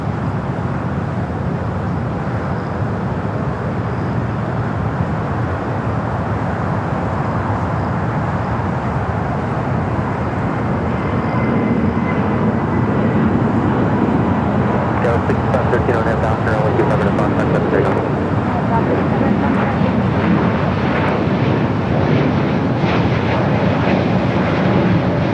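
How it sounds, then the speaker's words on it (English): An airliner takes off from the south side runways at LAX: a loud, steady broadband roar that swells about halfway through, with faint talk underneath. "Let's go to our next takeoff"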